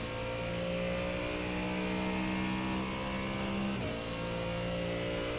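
A race car on the Nürburgring pulls hard up through the gears, its engine droning loud and steady with a rising pitch, a brief dip at a gear change, then more pulling; close and continuous, with no voices.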